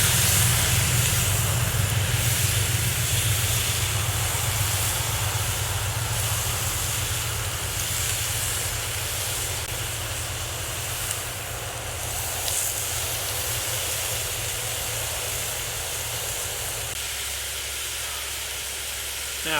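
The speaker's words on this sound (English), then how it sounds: "Get a good nice sear on them, some brown." Meat sears in a hot pan with a loud, continuous sizzling hiss that eases slightly over time and drops off near the end.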